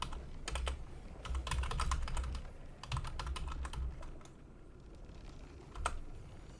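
Bot names are typed on a computer keyboard in quick bursts of close, crisp key clicks, with short pauses and one firmer keystroke near the end. No one speaks.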